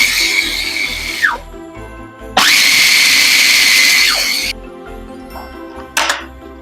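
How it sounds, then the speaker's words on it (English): Food processor grinding almond slivers, with two loud whirring bursts: a shorter one, then a longer sustained run with a pitch drop as the motor stops, and a brief final pulse. "So we're gonna put them into the food processor."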